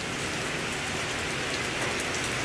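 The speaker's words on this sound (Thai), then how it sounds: "ฝนตกเนาะ" Steady rain falls in a village in Laos, a dense, even hiss of drops pattering on surfaces that holds at the same level throughout with no voices.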